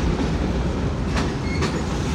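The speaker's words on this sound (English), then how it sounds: "I'm riding next to some train tracks, and there's actually a train up there." A train rolling along tracks beside a road at night, a continuous broad rumble and clatter with a couple of sharper metallic clicks, steady and fairly loud with no talking.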